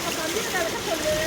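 Floodwater from heavy rain rushing through a residential street in Virudhunagar, a continuous broadband roar of flowing water, steady and close, with faint voices over it.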